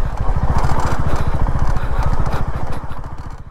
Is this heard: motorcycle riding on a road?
yes